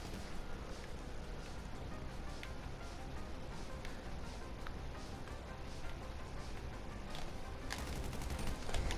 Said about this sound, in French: La balle de sniper elle est pas passée loin.